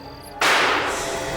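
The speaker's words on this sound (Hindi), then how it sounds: "गोली चल गई?" A single gunshot cracks out sharply after a quiet moment in a crime drama scene, the loud report followed by a lingering echoing tail with no talk.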